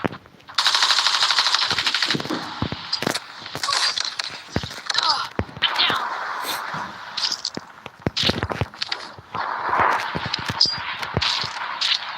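Rapid automatic gunfire in Call of Duty Mobile, loud bursts with brief gaps and single shots, close and dense throughout.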